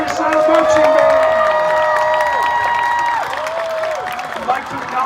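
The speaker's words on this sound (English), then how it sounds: "another round of applause for the Terrier Silent Marching Band" A stadium crowd at a Friday night high school football game claps and cheers for the Terrier Silent Marching Band, a steady wash of applause that fades slightly toward the end, with an announcer's voice over it.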